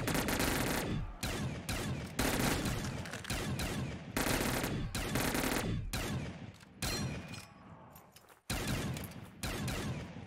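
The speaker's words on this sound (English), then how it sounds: "I actually haven't tested this little SMG." A small SMG on a video game map called CheeseCube V6 fires in loud rapid bursts, separated by brief pauses, that fill the whole stretch.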